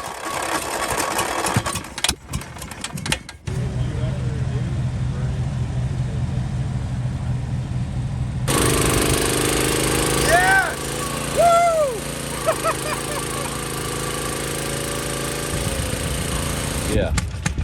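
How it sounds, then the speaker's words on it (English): Kickstart Briggs engine running with no exhaust pipe at an outdoor steam and engine show, a steady loud putter with crowd noise around it and people talking nearby. "Remember that gorgeous Kickstart Briggs motor?"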